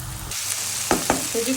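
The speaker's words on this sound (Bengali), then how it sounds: "এখন চিংড়ি মাছটা কষিয়ে কচুর লতি দিয়ে দিব" Shrimp stir-fried with spices in a pan, a brief steady sizzle with a couple of sharp spatula clacks and scrapes, close and fairly loud, with no talking.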